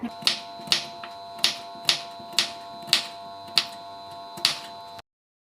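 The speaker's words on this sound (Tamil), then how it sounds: "இந்த வாழைக்காயை இந்த மாதிரி 2ஆக கட் பண்ணிவிட்டு செமி சர்க்கிளாக கட் பண்ண போகிறோம்." A knife slicing raw plantain into semicircles on a cutting board, giving about ten crisp, evenly spaced chops at a steady rhythm, close and clear with no talking.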